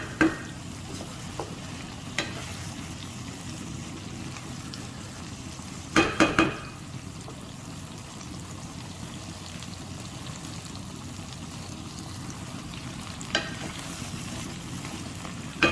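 Black chickpea curry cooks down in a pan as the water dries and the oil separates, giving a low, steady simmering sizzle with a few brief stirring scrapes near the start, in the middle and near the end.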